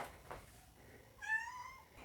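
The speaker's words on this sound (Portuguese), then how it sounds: "minha gatinha tá miando" A pet cat gives one clear meow at close range, short and rising, in a quiet room with faint background noise before and after.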